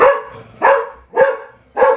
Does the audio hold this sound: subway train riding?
no